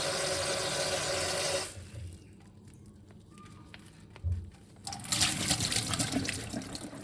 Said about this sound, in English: I fill it with water and I just vigorously shake it